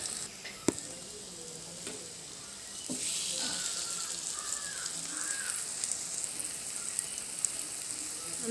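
Banana fritters frying in hot oil, a soft continuous sizzle and crackle close by with occasional clinks of a utensil, fairly quiet throughout.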